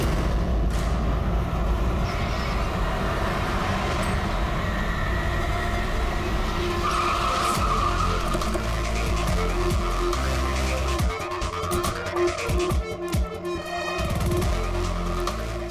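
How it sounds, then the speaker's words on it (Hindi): A driverless car rolling along and crashing in a street accident scene, a loud continuous vehicle rumble with scraping and skidding noise building toward the end, set under a dramatic music bed. "अंदर तो देखो, ड्राइवर नहीं है, गाड़ी अपने आप कैसे चल रही थी?"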